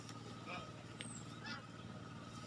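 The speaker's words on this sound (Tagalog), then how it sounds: "So nandyan na yung mga alagang ganso mga kadiskarte." Domestic geese honking near a vegetable garden being weeded, several short nasal honks around the middle over a low background hum, fairly close but modest in level.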